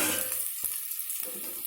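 Onions frying in a pan for a barbati and potato curry, a soft close sizzle that drops away briefly mid-way, with a single knock, before the hiss returns.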